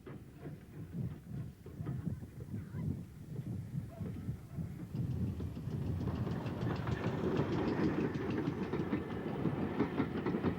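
Steam pannier tank locomotive hauling a train beside the sea toward Blue Anchor, rolling clickety-clack of wheels on rail joints and chuffing that grows louder and denser as it nears.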